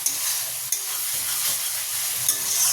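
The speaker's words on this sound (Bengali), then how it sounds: "আজকে আর আলুটা সিদ্ধ করিনি, একদম ভেজেই রান্না বসিয়ে দিয়েছি।" Potatoes fry in hot oil in a pan for a spicy red aloo dum, giving a continuous close sizzle with light stirring scrapes and no speech.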